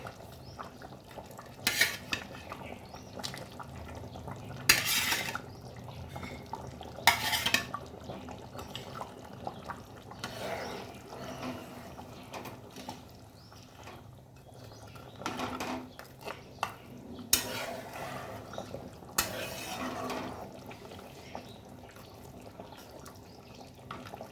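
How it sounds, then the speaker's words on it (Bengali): Fried fish heads go into a pot of boiling curry and are stirred, giving scattered clinks and scrapes of a utensil against the metal pot over a low simmering background, with quiet gaps between the knocks. "এরপরে আমি আস্তে আস্তে ভেজে রাখা মাথাগুলো দিয়ে দেবো।"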